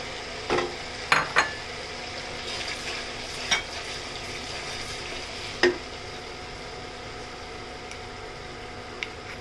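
Panch phoron spice powder hits hot oil for a pickle, giving a faint, low sizzle with a few sharp clicks and pops scattered through it.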